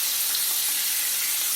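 Bacon and jalapeno slices frying together in a pan, a steady close hiss of sizzling fat running evenly throughout with no talking.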